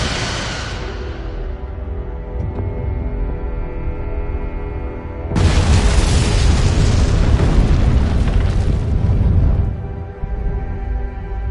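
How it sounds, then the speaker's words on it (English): Sci-fi photon torpedoes fire with a whooshing launch that fades, followed by a loud, sustained roaring explosion that rumbles for several seconds before dying away. "Aye, Captain. Firing photon torpedoes."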